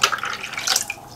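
Water is drawn out of a small pico reef bowl aquarium with splashy, uneven sloshes and trickles up close, broken into short bursts.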